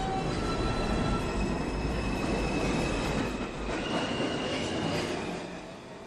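A New York City subway 1 train runs through Lincoln Center station with a loud, continuous roar of wheels on rails, squealing metal tones riding over it and easing slightly toward the end.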